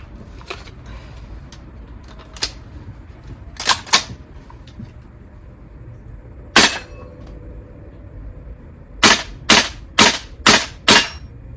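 A VFC V3 gas blowback airsoft rifle fires sharp, close cracks, a few scattered single shots followed by a quick string of five in a row, outdoors in the cold with no talk.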